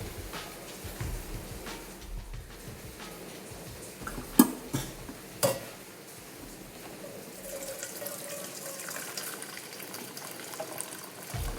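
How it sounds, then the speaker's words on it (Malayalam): Water from boiled tapioca pours steadily through a strainer, a continuous close splashing gush with a few clanks partway through and no talking. "ഒരു അരിപ്പയിലോട്ടിട്ടോ എങ്ങനെയെങ്കിലും ഈ വെള്ളം ഒന്ന് ഡ്രെയിൻ ചെയ്ത്"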